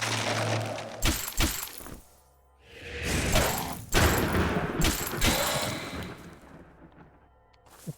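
Frost bomb spell cast in the dungeon game Legend of Grimrock 2: loud, close bursts of shattering, cracking ice with whooshing swells, several sharp impacts spaced over a few seconds before trailing off.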